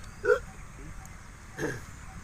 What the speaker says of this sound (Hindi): हिचकी भगा बर कुछ तो करे पड़िए